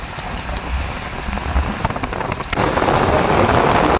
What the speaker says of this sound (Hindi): तेज बारिश स्टार्ट हो गई है